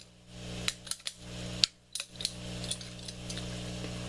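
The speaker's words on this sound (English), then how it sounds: "just nip this with the tubing cutter." A tubing cutter nips through plastic tubing for an aquaponics bell siphon, giving a few sharp, close snipping clicks over a low steady hum.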